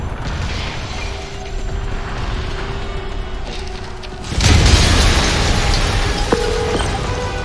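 A sudden loud explosion in the video game Marvel's Spider-Man Remastered on PS5 hits midway, a broad burst of noise that lingers as a rumbling wash over a steady mechanical background.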